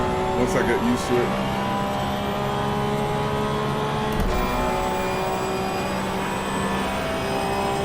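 Porsche GT3 Cup race car engine in the Assetto Corsa Evo racing game, a steady, loud engine drone with held tonal whine that continues throughout with only slight shifts in pitch.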